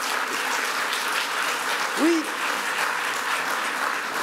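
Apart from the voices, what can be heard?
audience applause at end of conference talk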